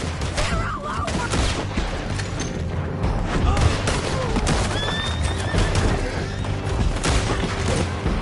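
Horses neigh loudly and repeatedly in Red Dead Redemption 2 during a canyon chase with riders, over galloping hooves and bursts of gunfire, with some shouting voices.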